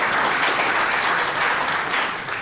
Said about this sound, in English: I saw some applause for